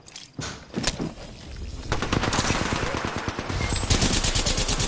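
Rapid automatic gunfire from a PS4 shooter game crackles loud and continuous, opening with a few separate shots before settling into a steady, dense stream of rounds.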